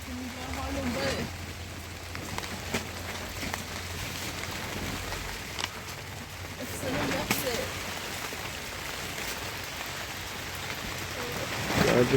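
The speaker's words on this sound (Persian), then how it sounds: "یه صدای بارونه" Steady rain falls on a shack during a storm, making a continuous dense patter and hiss with scattered louder drops. It stays at an even level throughout, with faint low rumbling underneath and no clear speech.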